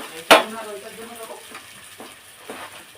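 Garlic dropped into a hot frying pan: a sharp burst of sizzle at the start that quickly fades to a soft, low crackle with faint stirring taps, and a quiet voice murmuring underneath.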